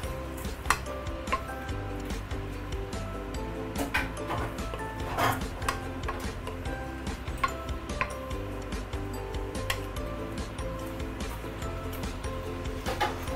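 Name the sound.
stirring prawn noodles with soy sauce in a pan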